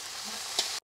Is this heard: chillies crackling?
yes